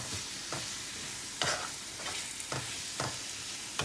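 Chicken for chilli chicken fries in a pan and is stirred, with a steady sizzle broken by several evenly spaced scraping strokes nearby, with no voices.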